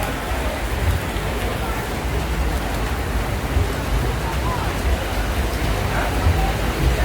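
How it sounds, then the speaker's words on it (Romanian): Heavy tropical rain pours down in Patong, Phuket, a dense, steady roar of rainfall heard from inside a restaurant, with diners' voices murmuring faintly beneath it. "Ia priviți ce ploaie strașnică a venit."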